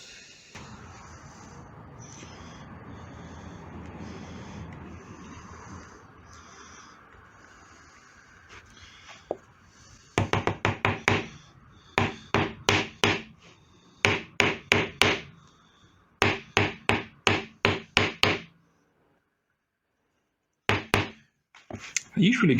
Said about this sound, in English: So let's just hammer these in.